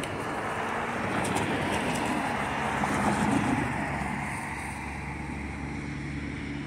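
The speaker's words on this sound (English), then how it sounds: "Train coming." A CSX train rumbles steadily, a broad continuous roar that swells slightly toward the middle and then eases off, heard from outdoors.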